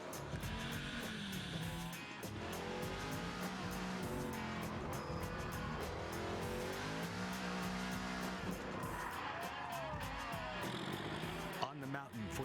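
Race cars at the Pikes Peak International Hill Climb, a steady roar of engines and revving with occasional tire noise, carried continuously under excited commentary throughout.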